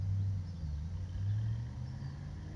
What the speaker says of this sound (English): You hear a car engine, you see a car.